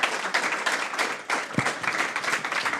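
At a research prize award ceremony, an audience applauds the prize-winning team, a lively clatter of many hands with slightly uneven, pulsing bursts, at moderate volume throughout.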